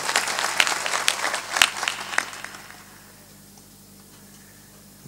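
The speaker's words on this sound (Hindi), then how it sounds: "थोड़ा तालियां भी जोर बजाओ करे, ये ऐसी मरी मराई तालियां।" Audience clapping at a spiritual discourse, sparse, scattered claps for about two and a half seconds that thin out and fade into near silence.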